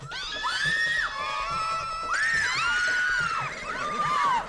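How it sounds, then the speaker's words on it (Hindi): Several people shout loudly and shrilly in a comedic household scene, three long overlapping wailing cries rising and falling in pitch, close and dominant. "और तुम दोबारा क्यों चिल्ला रहे हो?"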